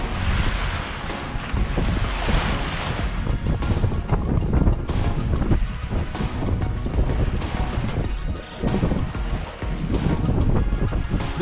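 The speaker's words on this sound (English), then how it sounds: "We're beam reaching north on the east wind." Sailboat beam reaching north on an east wind under mild, slightly overcast skies, with steady loud wind rush and waves washing against the hull the whole way through, and no voices.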